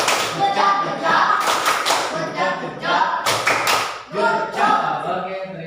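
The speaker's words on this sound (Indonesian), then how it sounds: "Tepuk gojok dulu dong, tepuk gojok." A classroom of children performs the tepuk gojok clapping routine, with loud, busy rhythmic hand claps and taps running throughout alongside children's voices.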